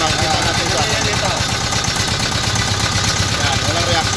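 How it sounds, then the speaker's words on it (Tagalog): A Deutz diesel engine runs with a misfire, a loud, steady, rough idle with uneven knocking pulses filling the clip, no speech over it. "May diesel siya pero walang reaction yung makina."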